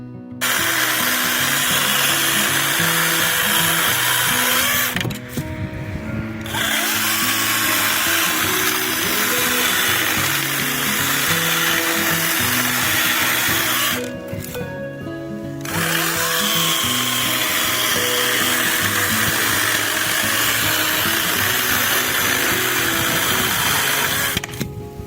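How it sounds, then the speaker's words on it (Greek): Nakayama EC1600 battery chainsaw cutting through dry wood, its loud, steady electric whine and chain rasp running continuously, broken by two brief pauses between cuts. "βλέπουμε ότι το EC1600 κάνει εξαιρετικές τομές, γρήγορες, καθαρές και χωρίς ιδιαίτερη ανάκρουση και δονήσεις"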